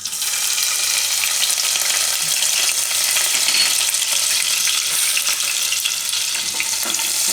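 Whole cumin seeds and chillies sizzle steadily in hot oil for a potato dry sabzi, a dense continuous frying hiss that stays loud and even throughout with no voices.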